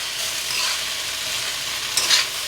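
Flattened rice upma frying in peanut oil, a steady soft sizzle with light stirring and a brief scrape near the end, no voices.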